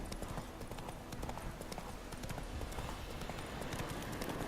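Roach, the horse in The Witcher 3, running: rapid, rhythmic hoofbeats clattering continuously at a gallop, moderately close and steady, layered over a wash of wind and ambient game noise.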